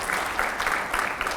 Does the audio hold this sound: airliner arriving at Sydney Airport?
no